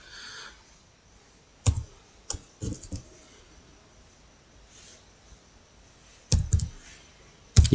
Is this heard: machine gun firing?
no